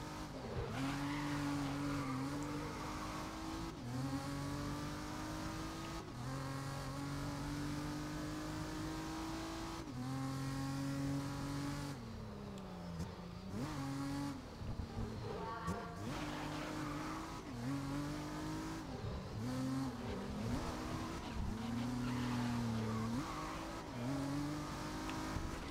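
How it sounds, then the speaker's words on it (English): Race cars in the video game GRID roar and rev through a long stretch of gameplay, engines rising and falling with repeated tire squeals and skids, loud and continuous with no talk. "these cars, man, they just think they own the whole road"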